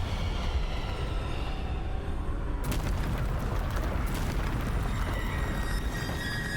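Bombarda spell explosions in the video game Hogwarts Legacy come as dense, continuous booming rumbles with a sharper burst partway through, loud and busy with game effects.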